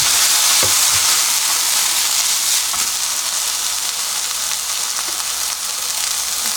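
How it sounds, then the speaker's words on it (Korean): Loud, steady sizzling and crackling of vegetables stir-frying over high heat, with a few clinks of a utensil against the pan. "불을 세게 해서 볶아냅니다."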